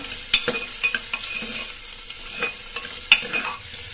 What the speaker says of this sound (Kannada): ಈರುಳ್ಳಿ ಸ್ವಲ್ಪ ಫ್ರೈ ಆಗೋ ತನಕ ಈ ರೀತಿ ಹುರ್ಕೊಳ್ಳುವ